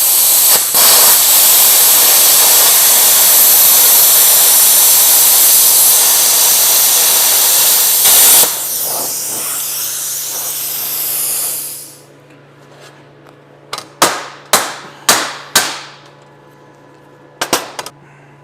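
A Bestarc BTC500DP plasma cutter slices through 3/8-inch steel plate, a loud, steady hissing roar lasting about twelve seconds, then it cuts out and several sharp air pops and short bursts follow in the quieter aftermath.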